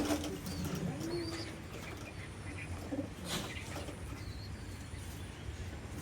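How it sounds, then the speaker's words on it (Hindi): Pigeons coo softly in a home loft, with faint chirps and a low background hum, and a few short murmurs of speech in the distance. "ये उड़ने वाला कबूतर है भाई, बहुत वफादार चीज़ है माशाल्लाह"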